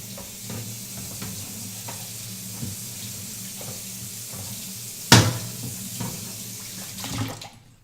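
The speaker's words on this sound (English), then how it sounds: "I'm going to give this cutting board a little rinse" A cutting board gets rinsed under a running kitchen tap, with a steady stream of water splashing and a sharp clatter partway through as the board knocks against the sink.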